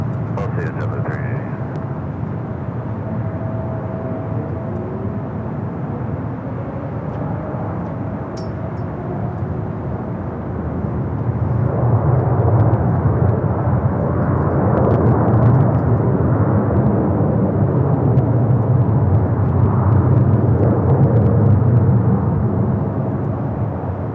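A jet aircraft at Los Angeles LAX airport, loud and continuous, with the engine roar swelling midway as a plane arrives or departs. A voice is faintly present.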